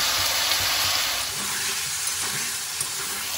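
Green peas added to vegetables frying in a pan on a medium gas flame, a continuous close sizzle and hiss with soft stirring scrapes running throughout.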